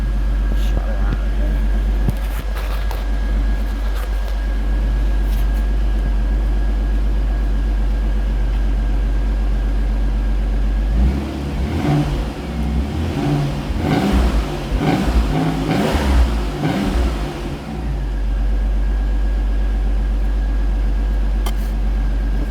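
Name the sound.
1990 Beretta Indy 3.1 engine idling and revving exhaust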